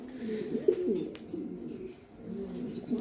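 Female pigeon cooing close by, with a few soft, low throaty coos rising and falling over about three seconds against faint background noise.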